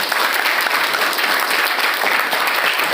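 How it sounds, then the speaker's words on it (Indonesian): An audience at a motivational seminar for Islamic boarding-school students claps for a visiting ustaz, dense and sustained applause that holds at an even level and fills the room throughout. "tepuk tangan Ustaz yang bisa dengar."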